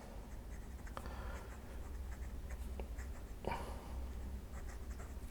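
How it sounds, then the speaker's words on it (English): A pen writes across paper in a side-stapled Rhodia A5 dotBook, giving soft scratching strokes and a few sharper taps, close up over a steady background hiss. "if I write like this"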